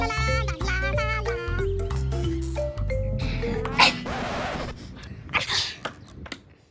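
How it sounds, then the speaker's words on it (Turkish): A sharp sneeze bursts out after a stretch of sustained, wavering vocal tones, followed by a few smaller breathy bursts and sniffs. "İnsanlar neden hapşırıyor?"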